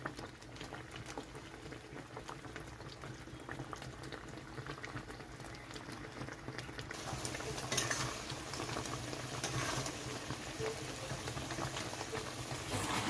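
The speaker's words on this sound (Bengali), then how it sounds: "এই এই চিনির রসে রসে আমটা সিদ্ধ হয়ে যাবে।" Mango pieces simmering in melted sugar syrup for a homemade sweet mango pickle, a steady bubbling boil with soft popping that grows slightly louder partway through, continuous and close with no talking.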